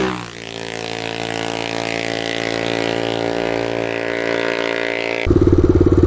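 A Honda ATC 350X three-wheeler engine drones steadily up close, its pitch holding through a long run before a sharp change near the end as it shifts gears.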